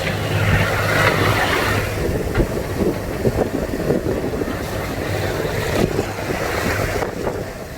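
A sailboat's engine running at sea off the tip of Italy's heel, heard as a steady low drone beneath loud wind buffeting the microphone and splashing water throughout.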